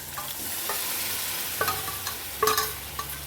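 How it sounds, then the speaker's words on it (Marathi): Dal is stirred into a sizzling mixture in a pan, a steady frying hiss broken by several clinks and scrapes of a spoon against the metal, loudest toward the end. "सर्व डाळ टाकून घ्यायची आपल्याला आणि एकदा परत हलवायचे अशा पद्धतीने"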